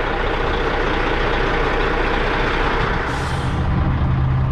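Semi truck coming to a stop, its engine rumbling steadily and loudly throughout, with a short hiss of air brakes releasing near the end before a low idle.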